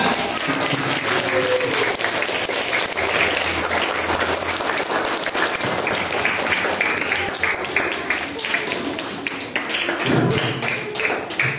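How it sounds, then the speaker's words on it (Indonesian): An audience claps for the teachers of an elementary school in Indonesia at an anti-bullying and drug awareness session, a loud, dense, sustained round of applause that fills the room for over ten seconds. "tepuk tangan buat Bapak Ibu guru SD Gajah"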